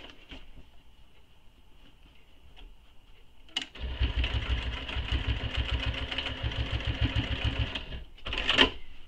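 A sewing machine bastes a mini backpack handle in place, starting after a few quiet seconds and running in a rapid, steady mechanical whir with a ticking needle rhythm for about four seconds before stopping with a clunk.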